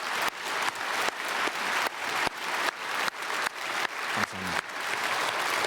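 Church congregation applauding during a Sunday worship service at Myungsung Church, a steady dense wash of clapping filling the hall with rhythmic surges, loud and continuous without talk.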